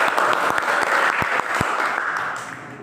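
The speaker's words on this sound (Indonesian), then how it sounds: "Terima kasih tepuk tangan untuk Mas Sufat." An audience claps steadily and fairly close in a sustained round of applause that slowly fades toward the end. No talking is heard over it.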